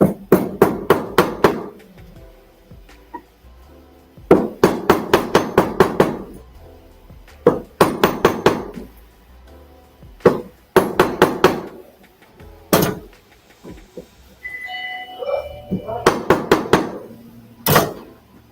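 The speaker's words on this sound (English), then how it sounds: "I'm going to make sure by hammering it flat." A hammer flattens a piece of metal at a jewelry-making bench, striking in quick bursts of five to eight sharp ringing blows separated by pauses, loud and close with no talking.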